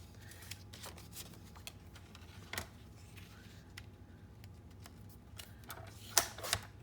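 A paper cutter trimming paper pieces for a file folder lapbook, with quiet sliding, clicking and crisp snaps, and a louder rasping cut near the end.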